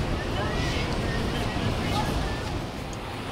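The Saraswati river rushes near a temple at Mana village in the mountains, a steady, loud broadband roar of fast-flowing water that continues without a break through the whole moment, with some wind buffeting the microphone.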